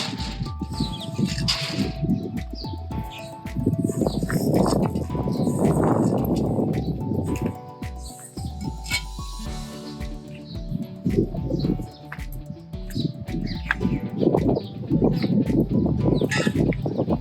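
Crowds of birds gather at a feeding spot where peanuts are put out, a busy mix of chirps, coos and fluttering in rising and falling waves, with no talk.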